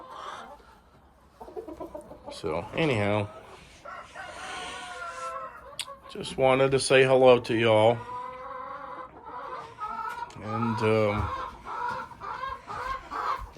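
Hens cluck and a rooster calls in several loud bursts close by as the chickens peck at each other, while a person talks between and over them.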